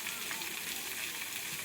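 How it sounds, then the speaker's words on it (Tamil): Steam hisses steadily from the Ooty steam toy train on the Mettupalayam to Ooty mountain railway, a continuous broadband rush with no breaks and no voices. "நீராவியில் ஓடக்கூடியது தாங்க இந்த டாய் ட்ரெயின்."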